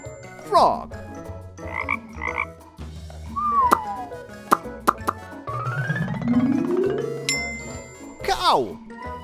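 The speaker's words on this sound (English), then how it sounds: "Frog." A rapid, croaky frog call mixed among other scattered animal noises and a plopping sound, loud and close, with no talking.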